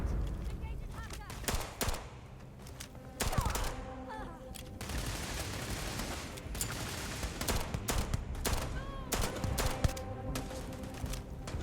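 Gunfire from a 1911 pistol and other weapons in the video game Starfield, a dense volley of sharp cracks and bursts spread across a firefight, with someone talking over it.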